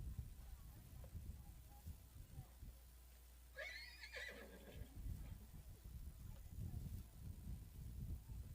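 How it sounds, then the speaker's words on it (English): A horse whinnies once in the middle of a 4-H/FFA horse show arena, a clear rising neigh lasting about a second over low background rumble and faint distant voices. "Canter your horse, please."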